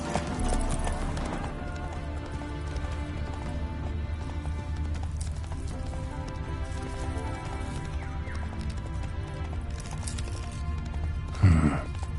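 Roach the horse gallops in The Witcher 3, a rapid steady clip-clop of hooves carrying on throughout, with an ambient music bed underneath and a short louder scuffle near the end.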